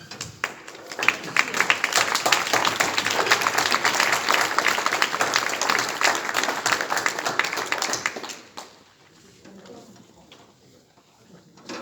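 A crowd in a town festival hall claps loudly and steadily for about eight seconds at a municipal council installation in Aniane, then the applause stops abruptly, leaving a quiet room.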